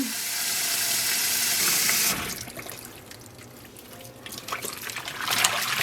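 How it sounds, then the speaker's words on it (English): Tap water rushes steadily into a basin used for dyeing yarn, then cuts to a softer trickle and sloshing with scattered splashes, close by and without talk. "we're gonna fill the basin back up"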